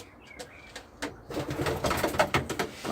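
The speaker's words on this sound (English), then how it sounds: "We're happy with all these pigeons." Racing pigeons in a loft, Jansen and other blue bars, cooing softly in low repeated bursts, with rustling and shuffling becoming busier and closer partway through.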